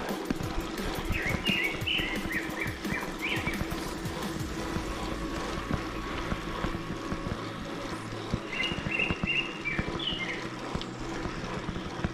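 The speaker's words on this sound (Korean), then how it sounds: "새소리도 좋고" A few birds chirp in short twittering bursts on a Chilbosan mountain trail, early on and again near the end, over a steady hum of outdoor background noise.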